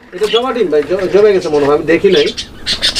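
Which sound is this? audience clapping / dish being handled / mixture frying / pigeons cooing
pigeons cooing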